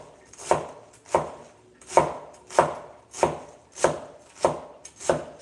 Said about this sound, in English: So when you are chopping this, be careful for your fingers.